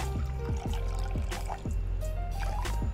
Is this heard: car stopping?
no